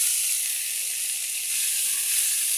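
Garlic sizzling in a hot pan with oil and browned onions, a steady bright hiss that holds evenly throughout with no talking over it.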